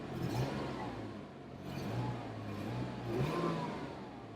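Car engine running on a Copart salvage lot, idling quietly and swelling into several slow rev rises and falls, heard somewhat faintly with no talk.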